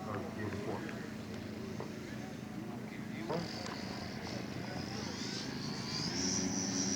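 Electric scale model aircraft doing a touch and go at a scale aircraft show, a motor whine rising and sweeping in pitch toward the end over steady outdoor background, with a commentator talking throughout.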